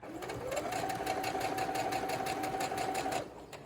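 A sewing machine stitches a fabric face mask with a filter pocket, giving one close, steady run of rapid needle whirring for about three seconds before it stops.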